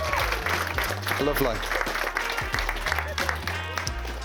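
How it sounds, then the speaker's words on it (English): Wedding guests at Bordesley Park, Worcestershire, applaud the bridesmaids with a brief burst of clapping during the speeches, mixed with talk and background music. "Can we have a round of applause for the bridesmaids, please?"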